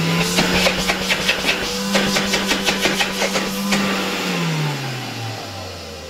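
An old Alfa 2 vacuum cleaner from 1962 with a Hungarian SK5A motor runs with a steady droning hum and a regular mechanical clicking, then the motor is switched off and the tone sinks as it spins down.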